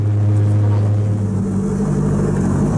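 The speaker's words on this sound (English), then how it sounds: "A sports car with a loud engine is probably not the first thing that comes to mind" The Blade, a 3D-printed eco-friendly sports car, runs with a loud engine, a deep steady rumble that holds at a constant level without breaks.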